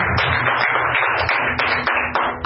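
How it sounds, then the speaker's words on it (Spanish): Church congregation clapping for Christ at an evening service, loud and close, a sustained burst of many hands with uneven surges and no talking over it. "¿Cuánto le dan un aplauso a Cristo en esta noche?"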